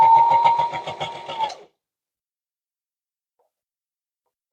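A sewing machine runs in a fast, even stitching rhythm for about a second and a half, sewing along a fabric edge on an upcycled patchwork garment, then stops into silence, with a brief faint blip at the very end.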